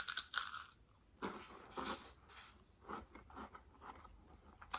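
Crunchy Kinder chocolate bar bitten and chewed close to the microphone: one sharp crisp snap, then a series of quieter crunching chews spaced irregularly, with no talking.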